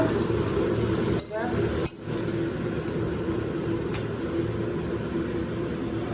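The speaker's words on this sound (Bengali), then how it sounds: "দেখো, উচ্ছেটা ভাজা হয়ে গেল" Bitter gourd sizzles steadily in a pan, with a couple of brief scraping stirs early on and no talking.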